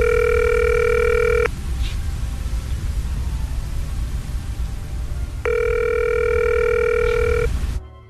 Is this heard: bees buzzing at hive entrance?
no